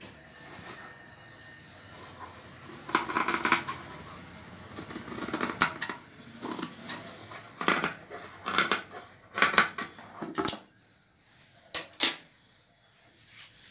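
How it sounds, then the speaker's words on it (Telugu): Scissors cut through blouse fabric and its lining in a series of sharp snipping bursts with pauses between them, close and fairly crisp against a quiet room. "ఇలా పెట్టేసి ఇలా లైనింగ్ వేసేసుకొని ఇలా కట్ చేసుకోవాలి"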